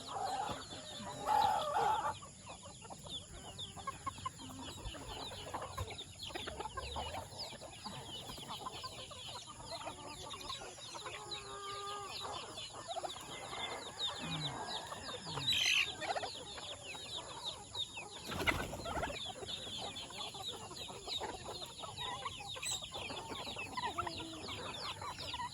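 Free-range chickens cluck and chatter continuously at a low level, with scattered squawks and occasional louder calls amid faint ambient noise.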